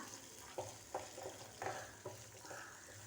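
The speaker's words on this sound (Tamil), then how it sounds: "தேவையான அளவு உப்பு சேர்த்துட்டு நல்லா நம்ம வதக்கி எடுத்துடலாம்" Tomato and peanut mixture, salted, sautéing in a pan for a Tamil tomato-peanut chutney, a quiet steady sizzle broken by about six soft spatula scrapes spaced roughly half a second apart.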